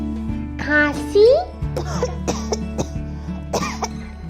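A child coughs repeatedly in short, harsh bursts close by, with brief childish vocal sounds and a steady low background hum.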